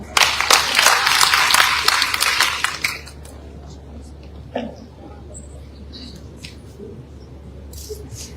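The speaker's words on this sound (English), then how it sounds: "Please clap for him." An audience claps for President Julius Maada Bio at a public event, a loud burst of applause for about three seconds that then stops, leaving faint room noise with scattered small sounds.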